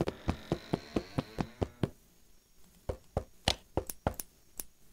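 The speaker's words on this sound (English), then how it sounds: "I just heard someone knock on my door" Knocking on a door in the video game FNAF Tyke and Son's Lumber Co: a quick run of about nine even raps, a brief silence, then a second, louder and more irregular burst of knocks.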